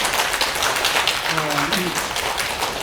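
Applause from a congregation at a Buddhist dharma talk in Busan, a steady clatter of many hands clapping, with a voice speaking briefly over the middle of it.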